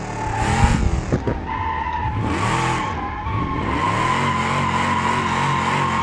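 A classic muscle car drifts in the BeamNG video game, loud, close tire squeal and skidding over a revving engine that rises and falls with throttle blips, continuing without pause.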